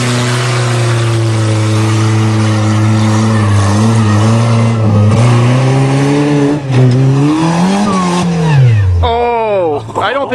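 A 1994 VW Jetta engine roars loudly as the car is driven hard in reverse, its pitch holding high, wavering and climbing before falling away sharply near the end.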